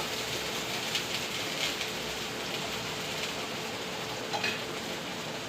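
Oil sizzles steadily in a pan during frying, a dense crackling hiss that stays loud and continuous throughout, with faint stirring clicks and no voices.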